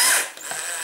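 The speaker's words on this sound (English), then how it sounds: "Nice sharp drill, get that straight in there." A sharp drill bit bores a pilot hole for a screw while a wagtail swivel brush is being built, giving a short, close, bright whir that starts loud and then settles to a steady grind.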